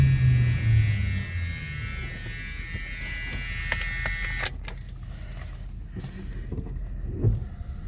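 A 1978 Dodge Aspen Custom sedan with 26,500 miles under way, giving a steady low road and engine drone with a faint whine on top, plus a few brief clicks and knocks from inside the cabin.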